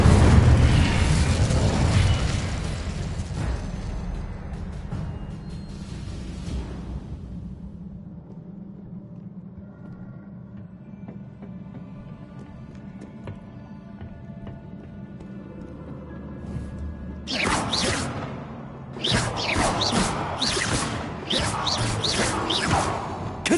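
Spell blasts and explosions from Hogwarts Legacy: a loud opening burst fades into a quieter rumbling stretch, then a rapid run of sharp, crackling impacts follows near the end.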